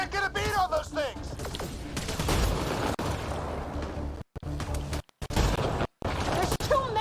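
Bursts of rapid gunfire and booming blasts fill a chaotic firefight in the video game Cyberpunk, with shouting voices at the start and short gaps between volleys.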